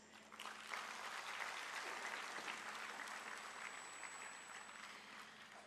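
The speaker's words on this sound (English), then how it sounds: "those who were awarded this evening deserve a hearty applause" Sustained applause from an audience at an awards ceremony in an auditorium, steady and full for several seconds with no talking over it.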